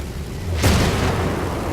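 An artillery shell explodes on a tank in a tank battle video game, a single loud sudden boom with a brief rumbling tail, heard alone.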